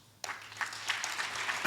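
Live podcast audience breaks into scattered clapping after an abrupt start, a modest, fairly quiet patter of hands that holds steady to the end.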